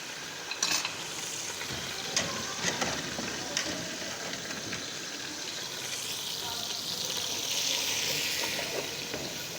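About five spoonfuls of an ingredient, likely all-purpose flour, go into heating oil for a white creamy sauce pasta, giving a steady close sizzle and fry hiss that swells toward the end, with faint scraping clicks from stirring.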